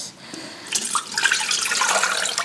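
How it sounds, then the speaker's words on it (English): Water from a tap pours into a pot over pig's feet, starting as a faint trickle and then rushing and splashing steadily, close by, with no voices. "I'm just going to put enough water in to cover the meat."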